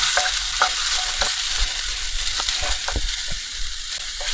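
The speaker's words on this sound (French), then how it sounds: "On va aller remuer les pommes de terre. Ouais, ça commence déjà à bien chauffer." Potatoes frying over a high flame in a hot pan, stirred with repeated scraping strokes through a constant close sizzle, with no voices.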